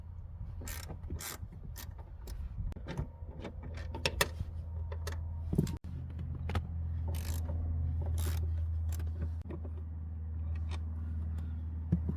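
Steady ratcheting clicks from a hand ratchet backing out an M10 seat rail bolt on a 2010 Audi B8 S4, close and continuous for about twelve seconds with a brief pause near the middle, with no talking.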